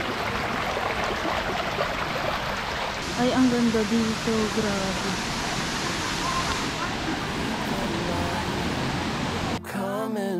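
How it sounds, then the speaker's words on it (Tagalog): Steady broadband rush of a flowing stream at Baroto Falls in San Andres, Quezon, continuous and close, with a person exclaiming briefly over it and a sharp cut near the end. "Nirinig na yung agos."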